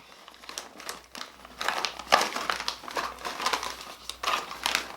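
A snack package from Thailand is crinkled and pulled open up close: loud, crackly plastic rustling in uneven bursts with short pauses, heard on its own without speech.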